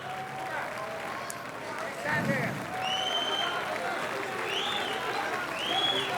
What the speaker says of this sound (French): Regardez, la salle est encore debout à applaudir.